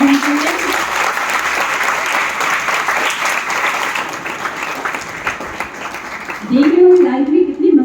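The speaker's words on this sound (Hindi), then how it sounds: "बहुत जोरदार तालियां बजा दी जाएं।" Loud audience applause at a Hindi motivational talk about Arunima Sinha, sustained dense clapping that fades briefly before a voice speaks over it near the end.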